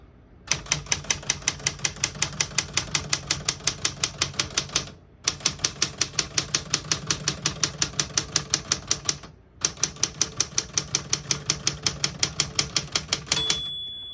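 Rapid typing on a 1967 Smith-Corona Super Sterling portable typewriter, close and loud, in three fast bursts of regular sharp keystrikes separated by brief pauses, with a bell ding at the end.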